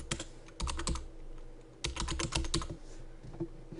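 Typing on a computer keyboard: two close bursts of rapid keystrokes separated by a short pause, then scattered single taps, with no voices.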